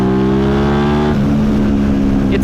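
An Aprilia RS660 parallel-twin motorcycle engine revs loud and close, holding a high steady tone before a shift drops the pitch and it pulls again.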